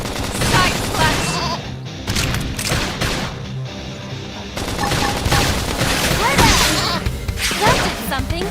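Gunfire rattles through a Xenoblade Chronicles X battle in quick dense bursts mixed with impacts, whooshes and crashes, while game voices call out over the action.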